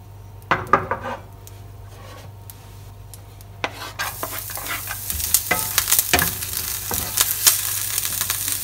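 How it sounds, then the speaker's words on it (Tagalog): Garlic frying in a pan for Filipino bistek Tagalog, a sizzle that swells louder and denser after a few seconds, with intermittent metallic scrapes and taps of a utensil stirring against the pan. "Magpiprito po muna tayo ngayon ng bawang."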